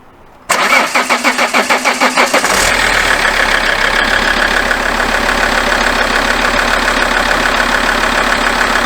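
An Alfa Romeo 159 diesel engine cranks with a rapid starter chug for about two seconds, then catches and settles into a loud, steady, slightly clattery idle close by, with no voices.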